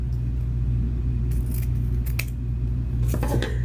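Scissors snip through the tail of a ribbon bow, a few quick crisp cuts in two clusters, close and clear over a steady low hum, with no talking.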